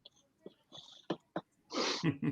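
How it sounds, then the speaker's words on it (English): A few short, sharp bursts like small coughs, followed by a longer breathy noisy burst, close by with faint background sounds. "Cover your mouth when you cough."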